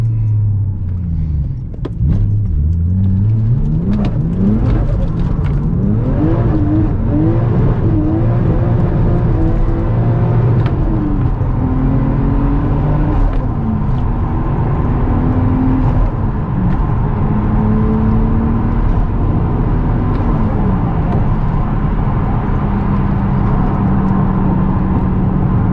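Toyota Verossa drift car engine being driven, heard from inside as it revs and rises and falls steadily in pitch, a loud continuous drone with shifting engine tones throughout and almost no talk.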